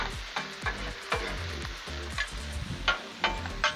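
Broccoli and other vegetables for a Thai chili chicken and shrimp stir fry sizzle on a hot Blackstone griddle, a close, steady frying hiss broken by repeated scraping and tapping of a spatula on the metal.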